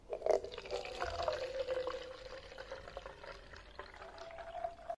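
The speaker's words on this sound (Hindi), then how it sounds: "तो चलो अभी इसको पानी भरते हैं इसमें" Warm water is poured into a small toy container, giving a thin trickling, dripping stream close by for a few seconds, with faint background hum.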